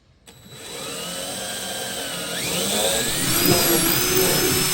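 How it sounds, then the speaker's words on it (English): Power drill boring a pilot hole into wood for a Ford Transit camper van build, the motor spinning up from silence and whining steadily louder as the bit bites in, alone without talk. "drill a pilot hole right dead center in the middle of my bolt marking."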